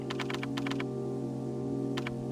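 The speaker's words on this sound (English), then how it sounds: "Just typing on my umbrella keyboard." Rapid clattering keystrokes on an umbrella-branded computer keyboard come in two quick bursts and a short pair near the end, crisp and close over a steady background hum.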